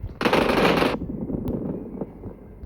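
An M249 light machine gun firing in PUBG Mobile: one loud, rapid automatic burst of about three quarters of a second, then scattered single shots and game noises.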